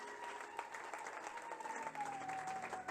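A church congregation applauds in praise of the word of God, with a rapid, even patter of many hands clapping together for a few seconds while a sustained tone hums beneath.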